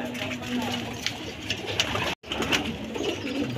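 Pet pigeons or doves coo repeatedly at close range, soft rhythmic calls heard under conversational voices in Filipino with a brief dropout partway through.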